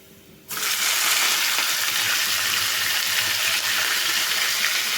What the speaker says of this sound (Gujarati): હવે એની અંદર આપણે વાલોડ એડ કરવાની છે